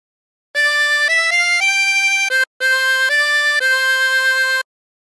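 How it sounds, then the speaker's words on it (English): Tremolo harmonica with 16 holes playing a phrase of Hark the Herald Angels Sing, a steady reedy melody of sustained notes with one brief breath gap, heard alone and close. "practice this until you end up with something that sounds like this"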